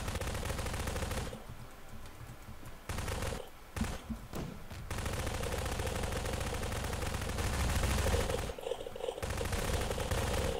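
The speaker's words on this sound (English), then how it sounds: "I just hear a load of gunfire." Rapid bursts of automatic gunfire ring out in a Garry's Mod Prop Hunt match, loud and sustained with brief gaps between volleys, no talking.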